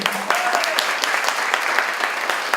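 An auditorium audience at a campus director candidates' debate gives a round of applause, dense and steady clapping close and loud across the whole stretch, with a faint voice at the start.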